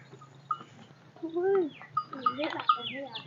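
Goats bleat among farm animals in a few short, wavering calls, one drawn out in the middle, mixed with people talking nearby.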